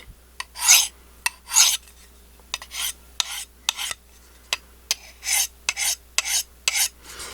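A Kubey KB274 knife is honed on a fine ceramic rod in about a dozen smooth, raspy strokes. They come in quick pairs and single swipes with short pauses between, close and clear, with no talking.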